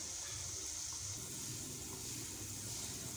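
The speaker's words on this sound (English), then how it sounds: "I'm going to drain it here, and then the liquid inside here, I'll use it to make a sauce" Cooking liquid from boiled kienyeji chicken drains off in a steady, continuous pour, a close and fairly quiet watery splash and gurgle running throughout with no talk.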